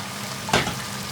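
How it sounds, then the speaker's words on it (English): Base gravy hits hot oil in a pan of British Indian restaurant-style Madras curry, setting off a sudden bright sizzle that flares up and then settles into steady frying, close and alone. "I'm going to add a little bit more base gravy"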